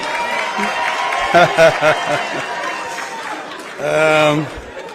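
Audience at a Kenyan political cooperation event claps and cheers as a crowd, a dense roar of applause with voices and shouts rising and falling beneath it.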